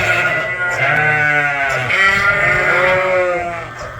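Recently weaned Dorset sheep and a few Suffolks bleat in a barn, several loud overlapping calls close by, rising and falling continuously.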